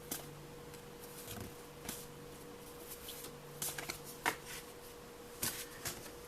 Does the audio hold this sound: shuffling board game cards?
yes